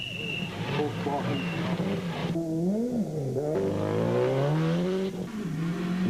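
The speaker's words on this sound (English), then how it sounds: "the Diesel Technique Subaru of Hein Latergan and Johan van der Merwe blitzed through stage one" Subaru rally car blasting through a stage of the Tour Natal 2009 rally, its engine revving with rising and falling pitch sweeps as it accelerates and brakes. A commentator talks over the engine noise.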